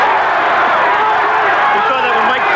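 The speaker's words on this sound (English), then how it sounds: "Crowd chanting Holyfield as Tillman tries to bore in and tie him up" A boxing crowd at a heavyweight bout between Evander Holyfield and Henry Tillman roars with a dense, steady wall of chanting voices, loud and continuous throughout with no pauses.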